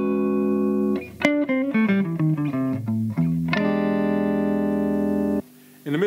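A Hagstrom Swede electric guitar on its rhythm pickup plays a quick run of picked notes, then holds a long ringing chord that cuts off abruptly, with a final note afterward.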